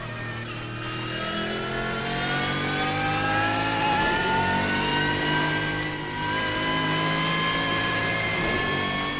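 Saleen S7 race car in Assetto Corsa, its engine revving hard with a rising, steady tone through the gears, loud and close, with a brief dip in pitch mid-run before climbing again, with no voices.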